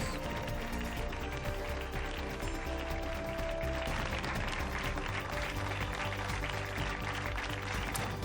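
Hospital staff in Spain applaud as a tribute to the victims of the pandemic: a dense, steady wash of many hands clapping, sustained throughout at a moderate, even level.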